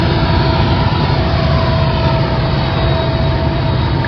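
Union Pacific freight train passing Cajon Junction, a steady loud rumble of heavy rail cars and engine drone filling the whole stretch without pause, near and continuous.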